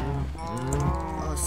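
Cows in the Minecraft video game mooing, with overlapping harmonic moos from several animals at close range, fairly quiet and without speech.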